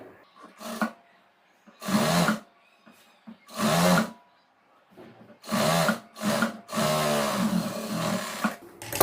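A sewing machine sews a quarter-inch seam on a blouse lining in several short bursts of loud, close whirring, separated by pauses, with the final runs longer.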